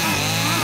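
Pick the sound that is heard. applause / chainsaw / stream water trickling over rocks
chainsaw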